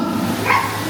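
A single short dog bark or yelp, fairly loud and close, over a low background hum.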